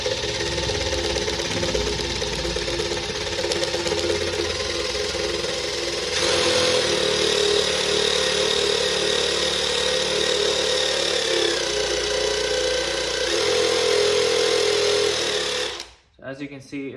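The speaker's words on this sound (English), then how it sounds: "put this in the drill, and then you're just gonna hit the trigger, and then it's gonna start removing the paint" Electric drill fitted with a wire brush attachment, stripping paint, a loud continuous whirring buzz with a harsh scraping edge that grows harsher partway through, running steadily before stopping near the end.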